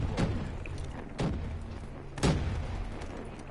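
Gunfire in the video game Ruin: three separate heavy booming shots about a second apart, each with a short decaying tail, over a low steady game ambience.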